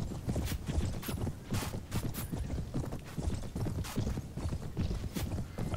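Horse hooves clatter in quick, continuous rhythm in Mount & Blade (Prophesy of Pendor), a close and steady clip-clop galloping throughout.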